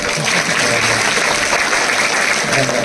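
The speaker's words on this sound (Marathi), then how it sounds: "अशी टाळी वाजवली पाहिजे" An audience at a harinam saptah devotional gathering clapping loudly, a dense continuous burst of applause close by.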